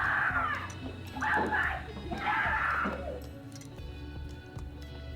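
A child's screaming sound effect plays on a live stream in a few loud, shrill bursts over the first three seconds, followed by quieter background noise and faint ticks.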